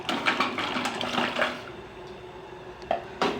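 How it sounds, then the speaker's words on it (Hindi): Ice water splashes and pours into a pot of Kashmiri pink tea, with a few clinks of ice, then the flow eases off and a couple of louder splashes end it. "बर्फ़ वाला पानी बर्फ़ के साथ ऐड करेंगे"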